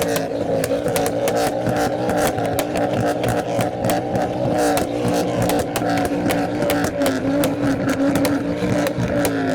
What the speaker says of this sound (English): We've still got the fluttering from the R33.